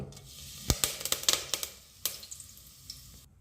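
Cumin, cloves and curry leaves dropped into hot oil, crackling in sharp irregular pops and bursts of sizzle that fade toward the end, close and fairly quiet.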